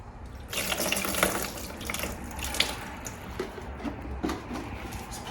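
Water splashing steadily from a tap over a coolant system part from a 2009-16 GSXR 1000 motorcycle, a continuous close hiss and patter with small splashy accents throughout.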